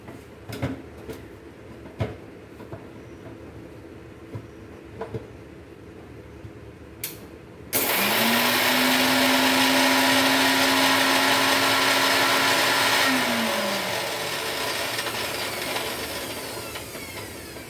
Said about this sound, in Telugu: ఫస్ట్ ఇది మిక్సీ పెడతాను